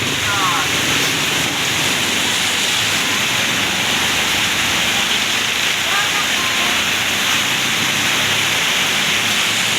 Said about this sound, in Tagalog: nakusog sa ulan